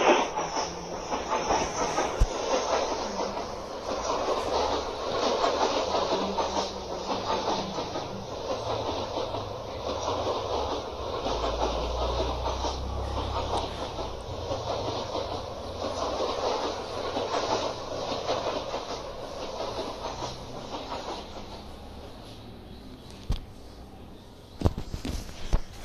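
Indian train running along the rails, heard from inside an AC coach: a steady rolling rumble and hiss with faint wheel clatter, continuous and fairly loud throughout, then a brief sharp knock near the end.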